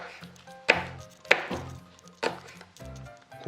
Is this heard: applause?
no